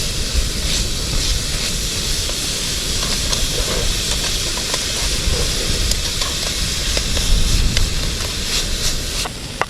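Bacon fries in a pan on a camping stove during winter wild camping in the Peak District, a loud, steady broadband sizzle that holds evenly throughout with no talking.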